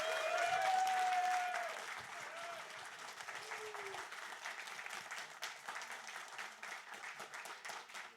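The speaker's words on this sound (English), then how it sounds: "can we get a round of applause and congratulations to the Sam J team." Applause from the audience at a League of Legends esports grand final, with a crowd clapping steadily. The clapping starts louder and then settles into a continuous patter, while a short, faint whistle-like tone sounds over it early on.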